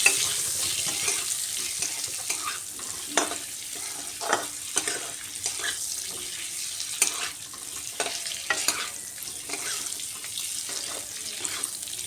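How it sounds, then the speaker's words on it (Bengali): Eggs frying in hot oil left over from browning potatoes, a steady bright sizzle and crackle with occasional spatters and utensil knocks, close and continuous with no talking. "ওই তেলের মধ্যেই এখন আমি ডিমগুলা ভেজে নেব"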